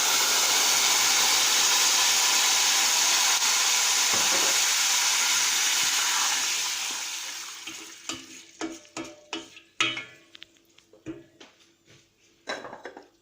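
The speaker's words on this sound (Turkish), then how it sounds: "Üzerine suyunu koyuyoruz" Water pours into a pan of toasted vermicelli with a loud, steady hiss and roar for several seconds, then dies away into scattered sizzles, pops and clinks of a utensil against the pan.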